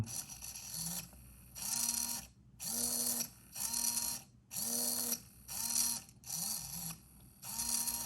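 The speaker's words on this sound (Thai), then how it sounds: "อยากจะมาหมุนเซอร์โวด้วย ไมโครคอนโทรลเลอร์ปิกนะครับ" A small servo motor driven by a PIC16F887 microcontroller whirs in short buzzing bursts, about eight of them with brief pauses between, each a gritty geared rattle heard close and quiet.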